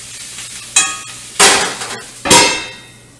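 A quarter head of sliced cabbage being stirred in a frying pan, with three distinct scraping, clattering strokes of a utensil against the pan over a faint background sizzle, close and with no talking.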